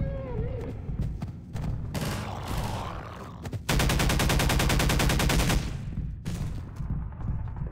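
Sustained automatic gunfire from a Half-Life 2 firefight, a dense rapid burst of shots lasting a couple of seconds, preceded and followed by scattered louder reports and game noise.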